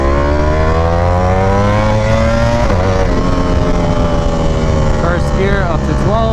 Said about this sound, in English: Yeah, the bike is running smooth.